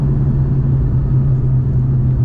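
A 2003 Bullitt Mustang fitted with a Cobra engine drones loud and steady during an acceleration pull, a constant low rumble with no break and no talk.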